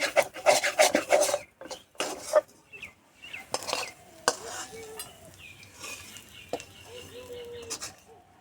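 A spoon scrapes and rubs cooked onion filling out of a pan in a home kitchen, giving a series of close, gritty scrapes and knocks that thin out into quieter rubbing and clinks.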